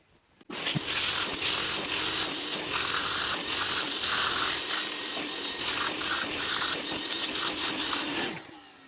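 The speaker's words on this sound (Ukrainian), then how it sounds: "І давайте тепер замиємо то все миючим пилососом." A washing vacuum cleaner working over a car's interior upholstery after a foam cleaner: a loud, continuous suction roar begins abruptly, with rhythmic scrubbing pulses from the nozzle, and drops off near the end.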